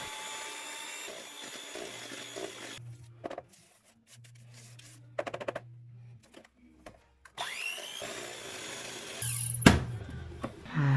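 An electric mixer beats chocolate chip cookie dough with eggs, whirring in uneven bursts that stop and restart, with knocks and scrapes against the bowl between runs.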